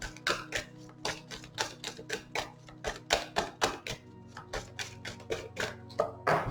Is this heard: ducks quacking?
no